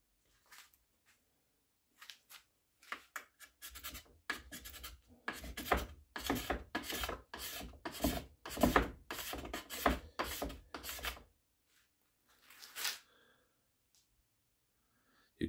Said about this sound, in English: you get nice scraping shaves